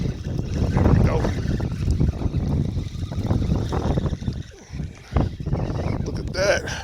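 Wind buffets a fishing boat on a windy day, rumbling microphone gusts rising and falling nearby, with a brief dip and a few knocks and splashy bursts.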